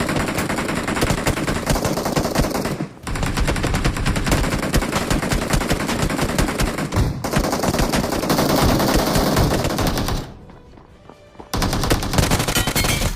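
Rapid automatic gunfire in a battle-royale video game rattles in long dense bursts, loud and close, broken by a brief pause near the start and a quieter gap near the end.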